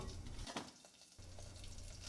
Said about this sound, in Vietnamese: Vân làm nóng nồi để phi tỏi đây.